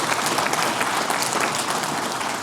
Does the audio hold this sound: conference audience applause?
yes